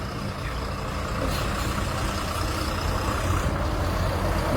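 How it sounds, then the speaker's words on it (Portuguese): Bus arriving at a stop, its diesel engine rumbling steadily and growing slightly louder as it nears, with a faint hiss of air brakes toward the end; no voices. "autocarro já vem"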